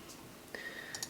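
A few soft, quick keystrokes on a computer keyboard while filling in a form in an app, close up and quiet, with a brief cluster of clicks near the end.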